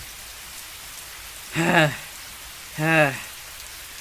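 Steady rain falling, a soft continuous hiss under two short spoken words from a narrator.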